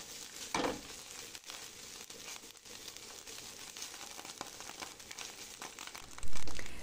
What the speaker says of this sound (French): Je vais faire revenir les oignons avec l'ail quelques instants sur feu moyen.